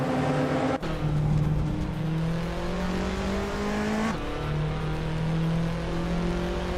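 Race cars, including a Porsche, a Toyota and a turbocharged GTO, roar loudly on track, engines climbing steadily in pitch through the gears with sharp shift breaks, and no voices over them.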